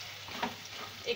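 Ground matar dal ball mixture frying in a pan, a soft steady sizzle with a couple of brief stirring scrapes, close and fairly quiet.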